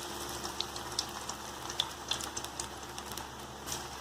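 Toor dal (split pigeon pea) vada batter frying in hot oil, a steady soft crackle and sizzle with scattered small pops, fairly quiet and continuous with no voices.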